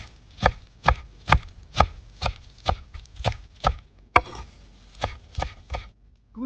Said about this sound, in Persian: اگه چوچاق ندارید یک کم نعنا به جعفری اضافه کنین و ریز ریز خوردشون کنین.